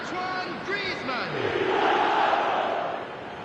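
Stadium crowd noise in the eFootball 2026 football game, a broad roar of massed voices with rising chant-like shouts that swell to a peak and then ease off, heard near and full, with no one talking.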